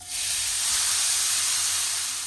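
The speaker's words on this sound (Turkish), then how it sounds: "Yağımın üzerine rendelediğim 4 adet havucumu ilave ediyorum" Four grated carrots dropped into three or four spoonfuls of hot oil in a pan, a sudden loud sizzle that swells within a fraction of a second and holds as a steady, close hiss with no voices.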